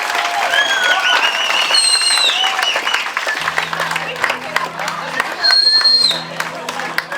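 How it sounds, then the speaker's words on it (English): Club audience applauding and cheering for comedian Spiros Yearos at a show in Marrickville, dense clapping and crowd noise under sustained whistles, with bouzouki-style music starting partway through. "Another big round of applause for Spiros Yearos."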